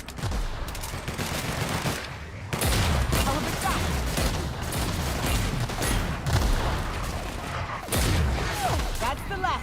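Gunfire in The Outer Worlds: bursts of rapid automatic shots and heavy booming blasts, loud and close, arriving in several clusters separated by brief pauses, with rumbling impacts and crashes between volleys.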